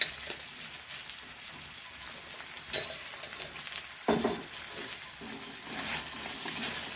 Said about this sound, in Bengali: ভালো করে আমি নাড়িয়ে নিচ্ছি।